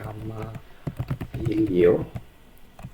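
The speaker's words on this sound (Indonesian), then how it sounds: "Langkah yang kita perlu lakukan adalah mengetikkan perintah nano untuk membuka code editor ataupun text editornya." Quick clicking of keys on a computer keyboard while the nano command is typed, a fast cluster of taps heard close up beneath someone talking throughout.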